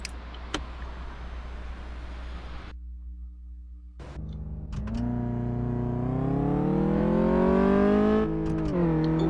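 Car engine in a test drive in Car Mechanic Simulator 2014, idling and then revving up with a steadily rising, droning tone that holds high near the end. No talking.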